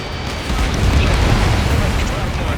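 A vehicle blowing up in the video game Ace Combat 7, a loud, dense, rumbling explosion that swells in and roars continuously for a couple of seconds.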